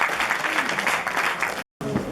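A large audience claps in dense, continuous applause, loud and steady for about a second and a half, then cuts out briefly before resuming.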